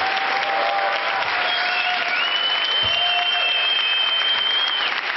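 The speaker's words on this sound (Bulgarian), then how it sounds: "Вашата аплодисменти, Диана" A studio audience claps in a dense, sustained burst of applause for a performer on a television show, with faint tonal music lines running underneath.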